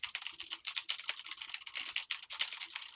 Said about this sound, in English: typing away